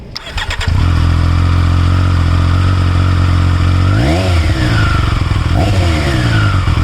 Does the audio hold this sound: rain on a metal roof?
no